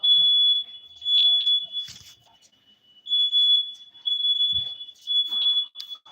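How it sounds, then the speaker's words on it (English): A fire alarm sounds in bursts, a piercing high electronic tone pulsing on and off in repeated loud blasts with brief gaps, close by, with faint scattered background noises between. "It's not a joke for a fire alarm to be going off for 4 hours."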